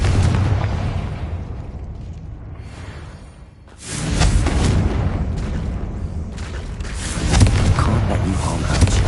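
Confringo blasting spell explosions in the game Hogwarts Legacy: a sustained roar of fiery bursts and rumbling booms that surges loudly midway and stays dense and noisy to the end.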